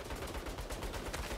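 Sustained rapid turret gunfire in the Saints Row game, a dense, loud run of overlapping shots with no pauses, filling the whole moment.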